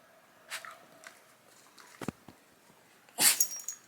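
A person or small animal sneezes once with a sharp, fairly close burst near the end, after a few softer scuffs and rustles in a quiet room.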